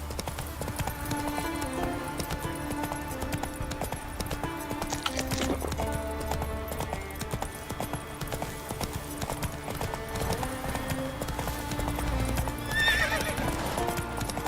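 Steady clip-clop of horse hooves under game music in The Witcher 3: Wild Hunt, with a horse neighing briefly near the end; the hooves keep a regular trotting rhythm throughout.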